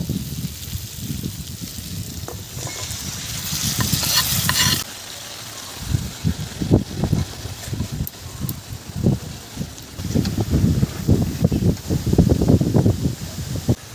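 Leafy greens go into hot oil seasoned with turmeric, chilli powder and salt, producing a rustling sizzle broken by uneven bursts of stirring, close and fairly loud.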